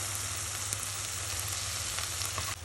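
Oysters and scallops being stir-fried give a steady, close, dense sizzle that runs evenly throughout, with a slight drop in intensity near the end and no voices.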